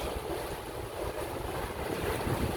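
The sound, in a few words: houseboat moving through estuary water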